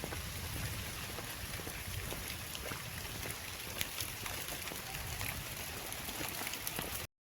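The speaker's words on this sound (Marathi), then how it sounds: "एवढे मोठे मोठे थेंबे पडतायत बघा." Heavy rain with big drops falls steadily outdoors in a Konkan village, a dense continuous patter that stays even and fairly loud throughout with no voices.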